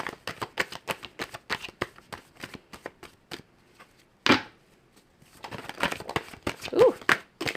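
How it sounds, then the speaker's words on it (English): Tarot cards being shuffled by hand in rapid crisp riffling bursts, close and loud, with a sharp slap of cards partway through, then more shuffling and card pulling. "Now let's start pulling some cards here."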